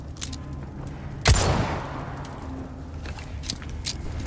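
Gunfire in Resident Evil 4 Remake: one loud, sharp shot lands near the start and then decays, with scattered quieter cracks and clatter around it.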